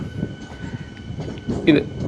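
Suburban train near Chennai Egmore rolling over tracks and crossings, a close, rumbling clatter with a brief louder squeal of wheels on rail toward the end.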